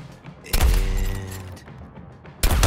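Gunfire in the video game Suicide Squad: Kill The Justice League, two loud booming bursts, one lasting about a second followed by a rumbling tail, then another blast at the end.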